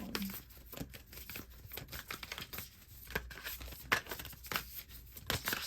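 Tarot cards shuffled by hand, a run of soft crisp riffles and papery rustles, close and quiet, with brief gaps between bursts and no talking over them.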